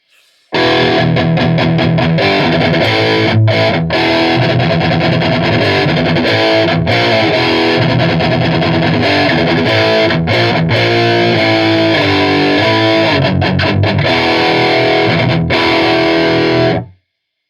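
Loud, heavily distorted electric guitar played through a mini amp head in modern mode, about sixteen seconds of chugging chords and riffs with brief stops, then cut off abruptly.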